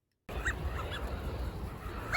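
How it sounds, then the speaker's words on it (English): Several wild migrating ducks honk in short, goose-like calls, a few bursts spread across a couple of seconds over steady outdoor background noise, with no talking. "I went to see rare ducks, not rubber ones, that migrated here again this year."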